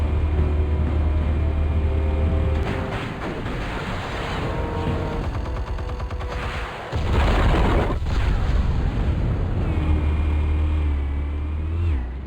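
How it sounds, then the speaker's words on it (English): Explosives detonate in the Batman Telltale video game, with deep booms and a rumbling burst over a sustained musical score. "Explosives armed. Fire when ready."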